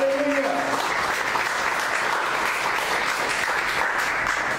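A church congregation bursts into loud, sustained applause, with dense clapping and crowd noise filling the space throughout, after a brief vocal exclamation at the start.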